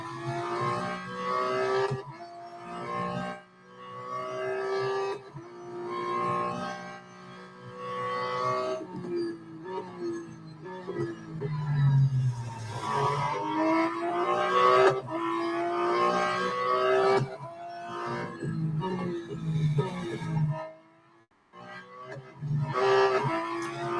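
A Porsche 911 GT2 RS Clubsport races in Real Racing 3, its engine rising and falling through repeated revving gear shifts with a brief tire squeal, loud and continuous over the lap.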